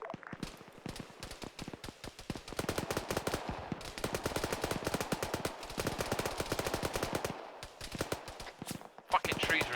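Rapid gunfire from a military shooter game, dense bursts of automatic shots rattling continuously with brief pauses, fairly close and loud, with a voice talking over parts of it.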